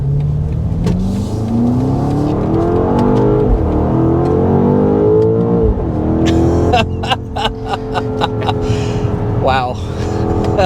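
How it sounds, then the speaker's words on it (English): A 2024 BMW X5 M Competition with a 4.4-liter twin-turbo V8 accelerates hard, its engine note climbing loudly through several gears with brief dips at shifts, then settling to a lower hum as a voice speaks over it. "let's go ahead and first start out with the hard acceleration and see what this X5M is all about"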